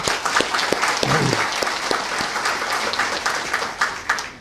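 A crowd applauds at a Chicago mayoral event on citywide violence intervention, steady dense clapping filling the room, loud and continuous with a brief low murmur partway through.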